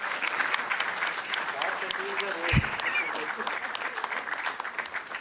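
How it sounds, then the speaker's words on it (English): A seated audience at a book launch gives a warm round of applause, steady and moderately loud clapping that lasts throughout, with a brief low thump midway and some talk underneath. "A warm round of applause"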